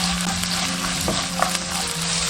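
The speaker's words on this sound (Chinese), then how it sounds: "炒香后下入青椒" Green peppers are stir-fried in a wok with ginger, garlic and dried chili, giving a loud, continuous sizzle with occasional scraping and stirring clatter throughout.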